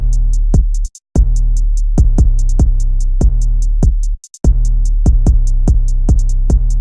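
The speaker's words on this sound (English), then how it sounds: "So yeah, there's the hi-hat pattern," A rapid, crisp hi-hat pattern from an instrumental remake ticks steadily over a booming bass beat, with two brief dropouts where everything cuts to silence before resuming.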